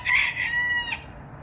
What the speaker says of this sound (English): I'm going to kill that rooster.